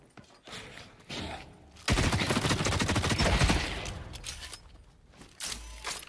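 Rapid automatic gunfire in The Cycle Frontier on Tharis Island, a dense close burst of shots lasting a couple of seconds, with a few scattered single shots and quieter gaps around it.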